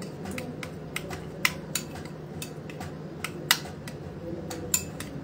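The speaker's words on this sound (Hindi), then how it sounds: "Black salt, cumin powder, chilli flakes, इसको भी अच्छे से हम मिक्स कर लेंगे।" A spoon mixing black salt, cumin powder and chili flakes in a dish, giving rapid, light clinks and taps of metal on the bowl over a low background hum.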